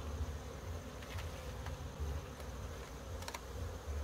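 Honeybees crawl over a freshly laid hive frame during an inspection in South Africa, filling the air with a steady, dense, close buzzing hum that never lets up, with no voices over it.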